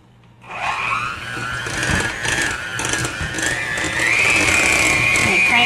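An electric hand mixer starts up and whirs steadily while beating cream cheese for blueberry muffins, its motor pitch rising and settling into a loud continuous whine close by.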